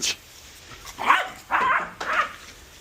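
A dog barks near a barn during cleanup of doors from a 1995 Jeep Wrangler barn find, giving a short high yip followed by three louder close barks at roughly half-second intervals, with no talking over them.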